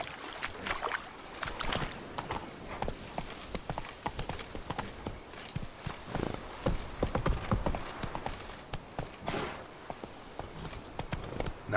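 Horse hooves galloping in The Witcher 3 video game, a fast steady clip-clop of hoofbeats running across the whole stretch at a moderate, close level with faint game ambience beneath.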